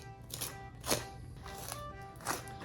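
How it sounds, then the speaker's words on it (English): A sharp, thin knife slices skin from a gar fish, giving a few soft, close scraping cuts with brief louder strokes near one second and again before the end, with no voices. "take a sharp, thin knife and just cut along the skin"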